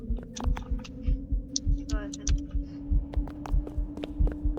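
Heartbeat in the Roblox horror game The Vents: a steady, deep double-thumping pulse repeats throughout over a low drone, with scattered game noises on top.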